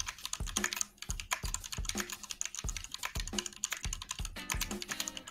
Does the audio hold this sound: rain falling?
no